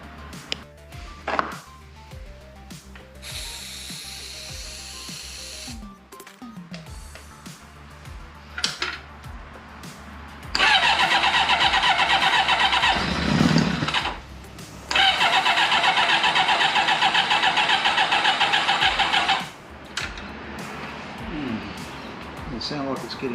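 The engine of a 1989 Kawasaki GPX750R motorcycle cranks in two long, loud, rhythmic bursts of starter churning without firing, separated by pauses, with clanks and handling noises nearby and people talking at times.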